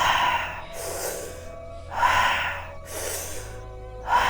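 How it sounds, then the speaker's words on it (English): Slow guided deep breathing, with long audible inhales and exhales alternating in a steady rhythm of about one breath phase per second, close and moderately loud, and no talking. "Inhale, abdomen up. Inhale, chest up, and exhale."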